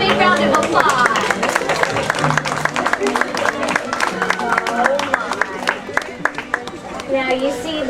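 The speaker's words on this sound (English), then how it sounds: "Give them a big round of applause." An audience at a Beauty and the Beast story time with Belle claps in a long, busy round, individual sharp claps standing out over a crowd's murmur and a voice talking along underneath.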